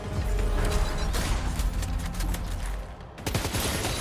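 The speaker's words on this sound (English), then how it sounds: "We'll use the assault rifle." Bursts of assault rifle gunfire in Death Stranding 2, loud rapid cracking shots in a dense stream, briefly pausing before resuming at the end.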